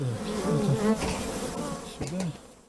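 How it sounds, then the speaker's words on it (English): Bees in hives, after a pesticide poisoning killed many of them, give off a faint, wavering buzz with no voices. "find only a faint buzz in hives"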